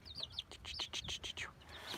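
Baby chicks peep in a rapid, overlapping run of high, thin chirps, close by and fairly soft, with no talk.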